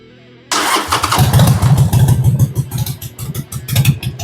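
A 1998 Sportster motorcycle engine cranks briefly, then catches and fires into a loud, close, uneven rumble that keeps running with rough pulsing beats.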